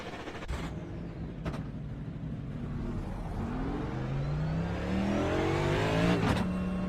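Race car pulling out onto the track with a sequential shifter, engine note climbing steadily in pitch as it accelerates, a couple of sharp clunks from gear changes, close and continuous with no talking.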